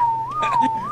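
A man whistles a short, steady wavering tune, a single clear tone rising and falling alone for about a second in a survival game session.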